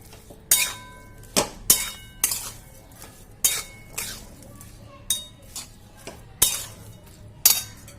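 A spoon mixes a little sugar into mustard paste and murla fish for a steamed mustard fish vapa, giving about a dozen irregular metal clinks and scrapes against the bowl, close and fairly loud with no voices.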